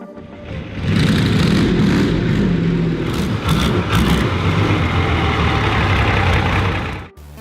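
A large tractor engine idles with a loud, heavy, steady rumble close by, holding constant before cutting off abruptly at the end.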